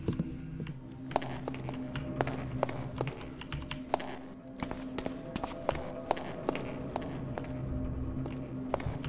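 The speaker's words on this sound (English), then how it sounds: "I'm still hearing a few footsteps" Footsteps in the stealth video game Thief Gold: irregular, clicking steps tap through a low ambient drone and hum, some nearer and sharper, others quieter, scattered across the stretch.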